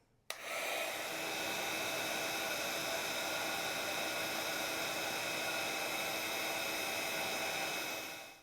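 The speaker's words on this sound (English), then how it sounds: "we're just going to bring in our heat tool, and I'm going to turn it on and get it heated up" A craft heat tool, switched on to warm up for card making with Distress Oxide inks, gives a steady, loud hissing blower roar that starts abruptly and holds evenly to the end.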